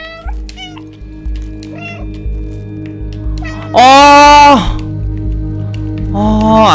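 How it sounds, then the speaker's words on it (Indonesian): Cat meows in the video game Stray: a loud, drawn-out meow in the middle and another at the end, over a low game music drone and short talk early on. "Kalau kita nge-meow, kita bisa tahu jalannya kemana, guys."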